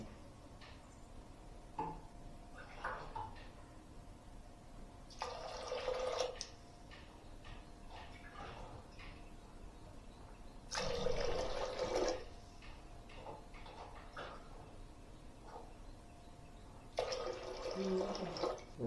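Water is poured into a cooking pot of black kavuni rice for porridge in three separate splashy bursts, each lasting a second or so, with quieter clinks and handling sounds in between.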